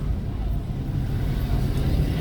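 Road traffic in Jamaica on African Day rumbles past as a steady, loud low engine drone from cars and larger vehicles close by, with no clear individual pass-bys.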